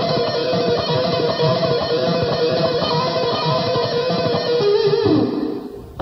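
Rock-style electric guitar barring lick played fast: a dense, continuous run of rapid picked notes, close and loud, ending in a held note that fades out, with no voices.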